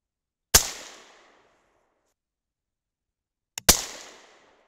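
Two sharp 6.5 Creedmoor rifle shots from a hang fire, each a loud crack trailing into a short decaying echo, spaced about three seconds apart in an otherwise silent outdoor setting.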